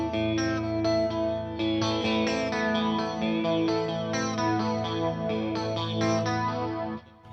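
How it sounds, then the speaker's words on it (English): An electric guitar played through a flanger effect pedal, chords and notes ringing continuously with a swirling, chorused, slightly distorted shimmer, close and steady, no talk. "So this is how I have it set up for my flanging sound."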